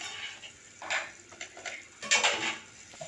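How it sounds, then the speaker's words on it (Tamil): Brinjal pieces drop into a simmering pot of kathirikai kuzhambu, making two soft bursts of plopping and clattering against the pot amid a quiet bubbling background. "இப்போ நம்ம கத்திரிக்காயை இது கூட சேர்த்துடலாம்"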